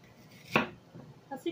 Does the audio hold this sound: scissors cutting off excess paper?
no